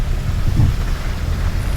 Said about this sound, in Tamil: நாகர்கோயிலில் சரியாவள மழை எப்படி பெய்யுதுன்னு பாருங்கள்